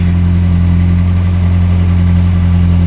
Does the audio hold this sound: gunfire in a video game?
no